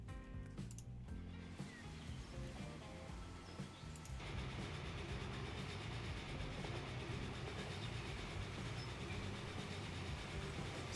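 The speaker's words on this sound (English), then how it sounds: "There's a train." A train rolls along in the city-building game Transport Fever, a continuous rumbling clatter of wheels and cars that starts with a brief sharper burst, then holds steady and fairly loud, no talk.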